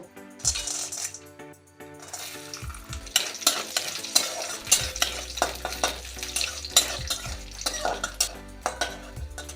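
Peanuts and raisins frying in a little oil for a Bengali cabbage and rice dish, with a gentle sizzle under repeated clinks and scrapes of a spoon against the pan, close up and without speech.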